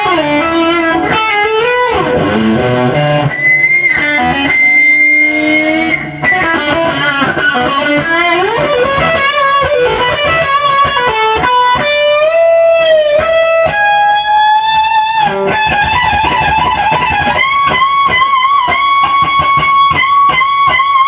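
A distorted electric guitar played through a Line6 Helix runs a solo as fast, bending lead lines and sustained, wavering notes. The tone is loud, continuous and upfront, and no one talks.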